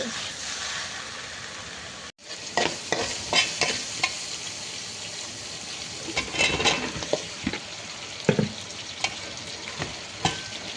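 Mixed vegetables fry in a pan with a continuous close sizzle, broken by repeated scraping and stirring strokes and a brief dropout near the start.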